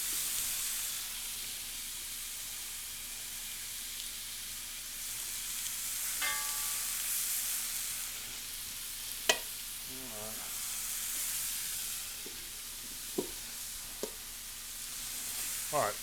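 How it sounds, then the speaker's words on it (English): Oxtail pieces searing in a hot pan, a steady soft sizzle throughout with occasional sharp clinks and scrapes, and a voice speaking intermittently. "We're going to sear them off on all sides, right?"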